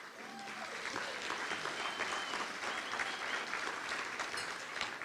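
Sustained audience applause at a charity gala, a dense, even wash of many hands clapping that holds steady throughout, fairly loud and uninterrupted.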